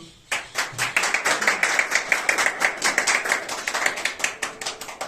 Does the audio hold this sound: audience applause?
yes